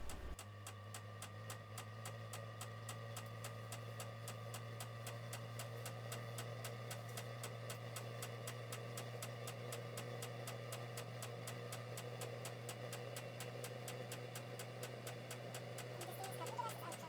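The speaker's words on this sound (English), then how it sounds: "The fuel pump is kicking in. Fuel pump and fan are rising up." A diesel heater's fuel pump ticks in a fast, even rhythm while its fan hums steadily underneath, a low, constant mechanical drone close by with no talking.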